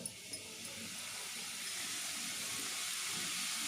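Kajjikayalu, sweet Telugu pastries, frying in hot oil, giving a steady, even hiss and sizzle that holds at a constant level throughout with no talking over it.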